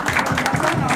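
A church congregation breaks into loud, dense applause, a steady wash of clapping from many hands filling the room.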